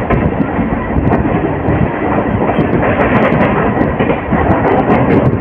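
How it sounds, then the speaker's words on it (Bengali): The Saraighat Express runs alongside a Howrah–Belur Math local train, heard from on board as a loud, continuous rolling roar with rhythmic clickety-clack of wheels over rail joints and no pauses. "সরাইঘাট এক্সপ্রেস আমাদের পাশাপাশি যাচ্ছে"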